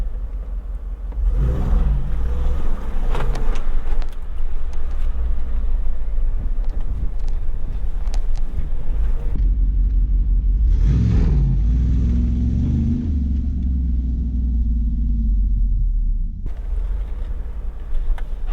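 A Jeep Wrangler 392 driving with all four tires spinning makes a steady low engine rumble throughout, swelling into two louder surges of revving and churning, with no talk.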